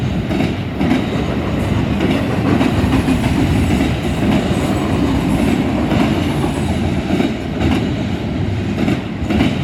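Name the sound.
freight train passing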